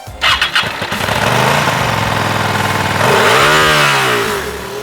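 A Hyosung GT250R V-twin 250cc motorcycle engine fires up and revs, its loud throaty exhaust rising and falling in pitch close by.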